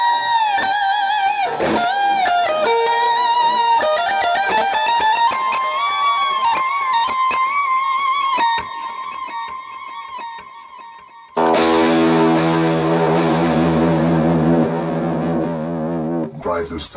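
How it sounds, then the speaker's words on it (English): Electric guitar played through a Boss GT-1000 with several different delay times feeding a huge reverb, sustained notes blooming into long washing echo tails, a lull, then a loud swelling chord that rings out and decays. "there's a lot of different time delays going in there, and they're all going into a huge reverb"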